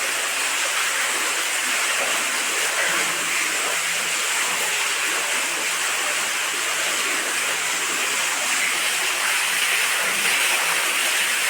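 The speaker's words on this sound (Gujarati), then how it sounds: "પહેલો જ દાર છે મિત્રો પાણી ભરી આવી ગયું મિત્રો જોરદાર પાણી આવી ગયું છે જુઓ" Strong water gushes out of a newly drilled side borewell on a farm, a loud continuous rushing hiss like a waterfall, steady and close throughout.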